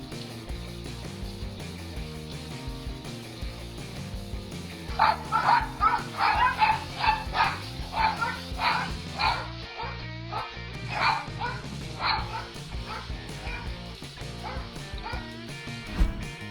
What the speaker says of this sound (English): Two small terriers fulfilled their duties as guard dogs by rushing at a bear that walked into this home in Pasadena